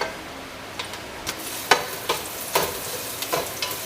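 Garlic sizzling in oil in a saucepan, a steady close frying hiss broken by several sharp stirring clicks and scrapes, with no voices.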